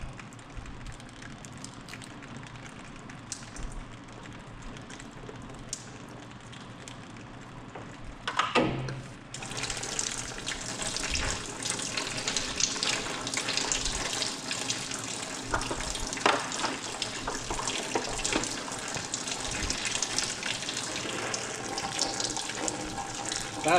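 Water gushes and splashes steadily as it drains out of an engine, first a softer trickle and then a louder, fuller pour that keeps running for a long stretch.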